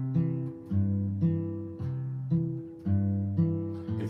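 Acoustic guitar fingerpicking pattern played up to tempo over an open E, a steady rhythmic cycle of plucked bass notes and ringing upper strings, close and clear with no talking.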